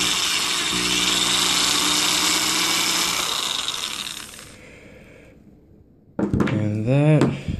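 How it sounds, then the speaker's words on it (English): A power drill spins while twisting wire into a coil, a loud steady whine and rumble that winds down and stops, then a voice begins speaking close by. "put it back in the drill chuck, and you can keep going even tighter"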